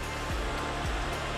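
Constant hissing flow of water from the pool and water features outside a luxury house in Washington, Utah, heard at a steady level with a few soft low bumps, no talking.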